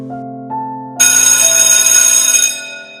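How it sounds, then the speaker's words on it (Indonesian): A school bell rings loudly and continuously after a couple of soft chime tones, then fades out near the end. "Bunyi bel pun terdengar di penjuru sekolah"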